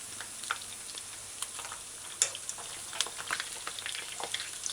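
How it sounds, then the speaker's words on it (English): Fish frying in a pan on a stove at medium-low heat, a steady soft crackle and hiss with scattered small pops and spits, close and moderately quiet, no talking. "You gotta allow the fish to fry before you'll be able to turn it"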